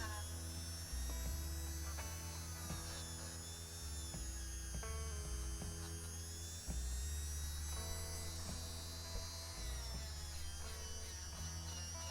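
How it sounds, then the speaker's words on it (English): A Dremel rotary tool wire-brushes the die-cast main casting and base of a Corgi Ford Escort Mk3 1.3GL model, giving a steady loud motor whine with a rough grinding buzz that varies in pitch as the brush meets the metal. "just going over now with the Dremel tool just to wire brush up the main casting and the base"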